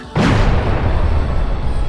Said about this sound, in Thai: แรงระเบิดสนั่นจนบริเวณรอบ ๆ รับรู้